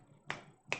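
Two short, crisp click hits used to sharpen a drum's attack, evenly spaced and fairly quiet, with nothing else around them.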